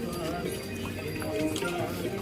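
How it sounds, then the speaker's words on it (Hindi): Horse hooves clip-clop along the snowy Kedarnath pilgrimage trail amid a busy, crowded din, the steady footfalls blending into murmuring voices and outdoor bustle. "लास्ट के 6 किलोमीटर मैं घोड़े में जा रही हूँ"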